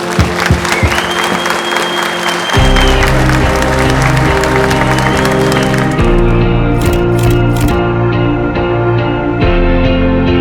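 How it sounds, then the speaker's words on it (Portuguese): Audience applause at a general assembly gathering, a broad clapping wash that gives way to loud music with a steady beat, the claps fading under it. "uma salva de palmas para vocês"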